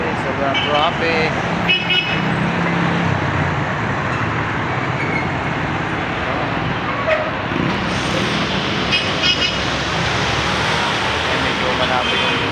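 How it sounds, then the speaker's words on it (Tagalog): Dense, heavy road traffic in Valenzuela on an overcast day, with a steady roar of engines and scattered car horns toots throughout, while someone talks over it. "grabe, sobrang traffic."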